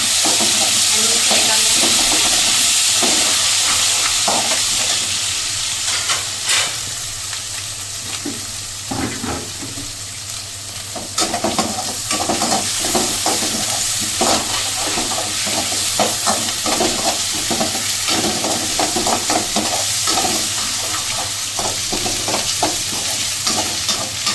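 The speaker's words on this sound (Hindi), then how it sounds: "थोड़ा सी पा देंगे प्याज फ्राई कर लेंगे" Green chilies and onions fry in a pan with ginger-garlic paste for chilli paneer, a steady loud sizzle and hiss broken by repeated scraping strokes of stirring, close up and continuous throughout.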